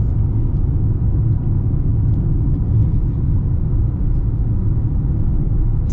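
Steady engine rumble from a 2025 Mercedes-AMG GLA 35 SUV on the road, a constant close drone with no clear breaks for gear shifts and no talking.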